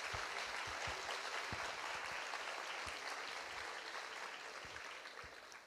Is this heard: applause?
yes